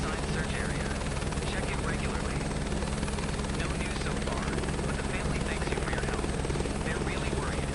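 A high performance helicopter in Microsoft Flight Simulator 2024 drones with a steady, loud rotor and engine roar, continuous and unbroken throughout with a dense rhythmic chop underneath.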